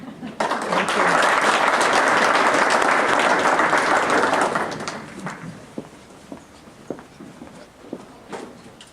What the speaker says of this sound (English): Let's also give a big round of applause for Jerry